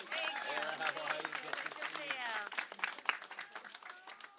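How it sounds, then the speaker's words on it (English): An audience at a New York City rally against e-cigarette marketing to kids gives steady applause, a dense patter of clapping heard at moderate distance with voices and chatter mixed underneath. "Give her a big round of applause."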